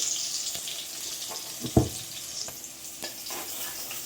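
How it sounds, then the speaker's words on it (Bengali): Fried pointed gourd (potol) pieces being lifted out of hot oil in a home kitchen, with a steady bubbling sizzle throughout and a few scraping clinks from the utensil, one louder knock near the middle. "দেখো পটলগুলো ভাজতে ভাজতে লাল হয়ে গেছে আমি তুলে নেব তেল থেকে"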